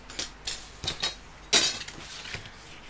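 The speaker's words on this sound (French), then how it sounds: "Hop, on va couper." Paper being cut for a handmade Christmas card with a teddy bear theme, giving a few separate snips and clicks at an uneven pace, close by and quiet, with no talking.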